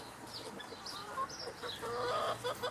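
Large young chickens being fed a finer chick feed cluck and chirp softly and fairly close in short scattered calls over a low farmyard background; no talking.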